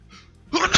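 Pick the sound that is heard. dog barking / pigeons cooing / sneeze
sneeze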